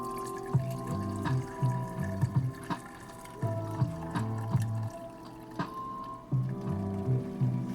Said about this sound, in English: this bowl is like cantankerous, so I'm just gonna dump it into this pot